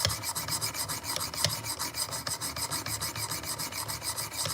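A knife blade is drawn repeatedly across a sharpening stone in a fast, even rasping rhythm, close and crisp, with no talking.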